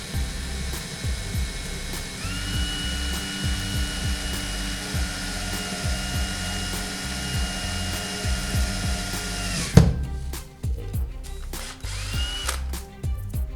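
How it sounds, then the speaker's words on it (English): A power drill bores a hole through plastic, its motor whining steadily up close for about ten seconds before a sharp stop, followed by quieter handling clatter and a brief second spin-up. "Plastic can be kind of hot because there's a lot of friction going on, and plastic tends to melt when it's being drilled"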